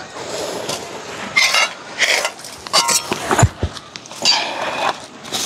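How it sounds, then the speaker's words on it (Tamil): Irregular clinks and knocks of a crab being cut up for cooking in a camper van kitchen, scattered sharp taps and scrapes over a low background. "இங்கால நண்டு ஜெரின் வந்து வெட்டி கொண்டிருக்கிறான்"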